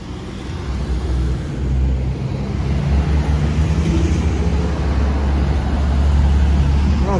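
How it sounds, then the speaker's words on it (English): Traffic rumbles past on a downtown Seattle street near Fourth and Denny, a steady, loud, broadband roar of passing vehicles that swells slightly toward the end. "We got traffic coming, so let's just wait."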